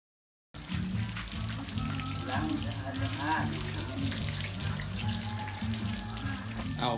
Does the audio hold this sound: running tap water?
yes